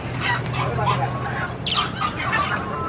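Several chickens cluck nearby amid a busy, noisy backdrop at a pigeon market, with soft pigeon calls overlapping throughout.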